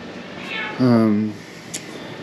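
An irritated house cat meows loudly and up close in a garage where a 1955 Hemi 331 V8 barn find is being worked on, one drawn-out complaining cry.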